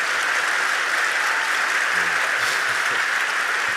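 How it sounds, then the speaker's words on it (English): Dense, steady audience applause fills the room at full volume throughout, a continuous roar of many hands with no gaps. "one more round of applause"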